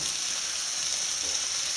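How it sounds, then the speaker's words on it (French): A squid mixture sizzles in a hot frying pan, giving a soft, steady, hissing crackle close by with no voices. "Je verse le tout dans ma poêle."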